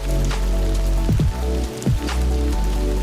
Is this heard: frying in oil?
no